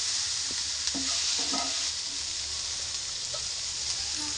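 Potato, bitter gourd and onion fry and get stirred in a pan with a little oil, giving a steady close sizzle broken by a few soft scraping stirs, with no voices.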